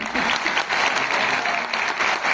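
Audience applause for an award presentation on a stage, steady dense clapping from a crowd throughout, fairly loud and close.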